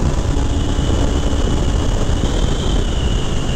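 A 1982 Kawasaki GPZ1100 four-cylinder motorcycle engine runs while riding, a steady low droning roar muffled as if heard from inside a helmet with the visor closed, constant and unbroken.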